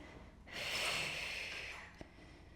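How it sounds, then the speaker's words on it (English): One long breathy exhale during a Pilates teaser prep exercise, lasting about a second, close and moderately loud, followed by a brief soft tap, with no talking. "Inhale there and exhale."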